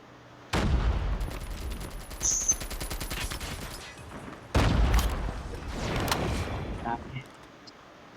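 In Call of Duty Mobile, heavy gunfire erupts in two loud bursts of rapid automatic shots and booms, with a sniper shot among them. Players' voices talk over the gameplay noise.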